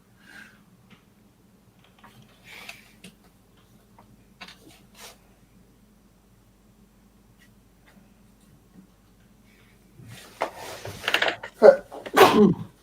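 A person sneezes close by, a short burst of sharp sneezes near the end after a long, mostly quiet stretch with soft scattered sounds, followed by brief talk.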